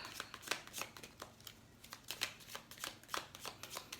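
Oracle cards are shuffled by hand in a run of soft, quick riffling and slapping strokes with an uneven rhythm, close and fairly quiet, with no voice over them.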